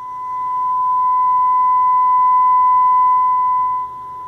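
A clean, steady 1 kHz test tone played from tape sounds alone and continuously, fairly loud, dipping slightly in level near the end.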